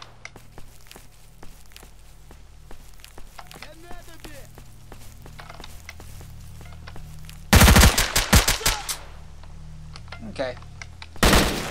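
An AK-74 fires in semi-auto in the shooter game Stalker, with several rapid loud bursts after quiet footsteps and a brief spoken word at the start.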